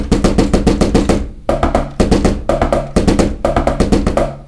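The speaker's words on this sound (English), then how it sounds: "Okay, and the kick drum." Kick drum of an electronic drum kit played alone in repeated groups of quick thumping hits, close and loud, with short gaps between the bursts.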